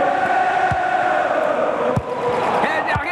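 A large Liverpool stadium crowd in the video game FIFA 18 roars and chants continuously, a dense wall of distant voices with a few dull thumps underneath.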